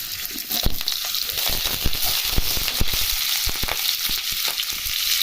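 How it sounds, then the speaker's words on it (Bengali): Potatoes fry in hot oil in a pan, giving a dense, close, continuous sizzle with scattered sharp crackles and pops throughout, with no talking. "আলুটা ভেজে নিই।"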